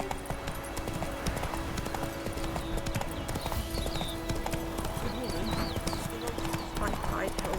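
Roach the horse from The Witcher 3 gallops steadily across the full stretch, hooves clip-clopping in a dense rhythm over a constant game soundscape, with occasional snorts or whinnies mixed in.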